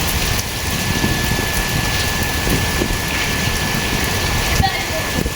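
Steady rain falls outdoors beside a wall near a temple, a dense continuous patter close by with a few louder drops, under faint background voices.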